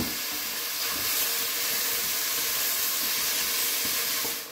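Chanterelle mushrooms hit a pan of onions and fry with a steady, loud hiss and sizzle close up, and no one speaks.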